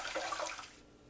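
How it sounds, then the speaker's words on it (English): Cool water runs from a tap over blanched pearl onions being rinsed for beef bourguignon, a short, quiet splashing rush that cuts off after under a second. "I'm going to rinse them in some cool water."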